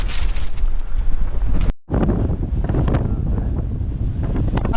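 Strong gusty wind at Urpad Beel lake in Goalpara buffets the microphone in a loud, steady roar, broken by one short dropout, with no voices.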